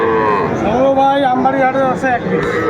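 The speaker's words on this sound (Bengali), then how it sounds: "দেখি গরুগুলো একটু দেখি" Cattle, including young bulls and heifer calves, moo in long, wavering calls close by at a cattle market, overlapping one another for a few seconds.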